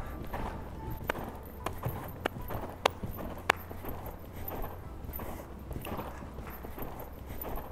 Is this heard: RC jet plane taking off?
no